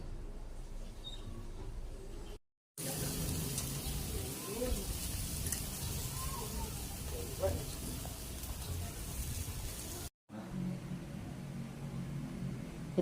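Chicken inasal cooking over heat, a steady broadband sizzling hiss in the middle stretch, bracketed by quieter passages, with people talking throughout.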